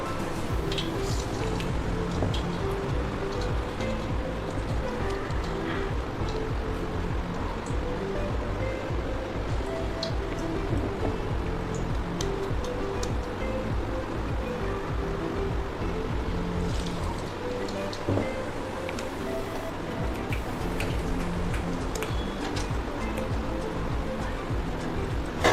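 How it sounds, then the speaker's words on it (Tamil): Medu vada, a South Indian lentil fritter, frying in hot oil: a steady, dense sizzle and bubbling that holds without a break, close and fairly loud, with no talking. "எண்ணெய் காஞ்சிடுச்சு, வடை போட்டுக்கலாம்."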